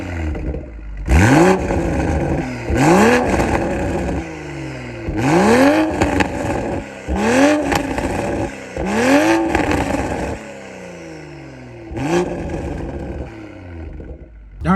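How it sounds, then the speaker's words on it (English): A tuned Toyota GR Supra with an intake and catted downpipe pulls away on the road, its engine rising through several loud, repeated acceleration runs with gear shifts and brief lifts between them. "let's go ahead and hop in, set the cameras up, and get on the road and see how these mods really change this Toyota Supra"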